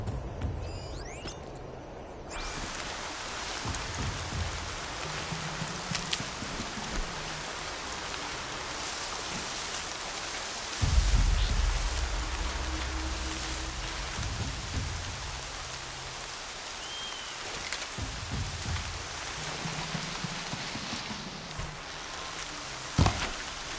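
Steady rain in the video game Horizon pours down without a break, a dense hiss of drops spattering on surfaces, with a low rumble swelling briefly midway.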